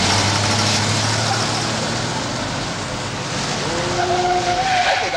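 A car driven hard without a map skids through turns, engine roaring loud and close throughout as tires squeal in sharp rising whines near the end.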